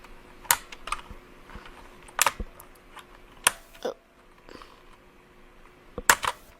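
Plastic clicks and snaps from prying the H keycap off a Kumara Red Dragon white-version mechanical keyboard, several sharp isolated clacks spread over a few seconds, close and fairly quiet against a faint background hum.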